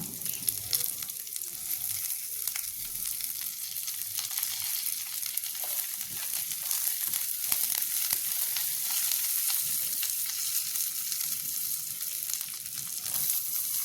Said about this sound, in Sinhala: මේ ටික ඔක්කොම තෙලේ බෙද ගන්න ඕනේ.